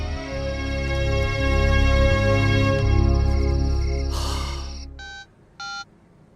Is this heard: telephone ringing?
yes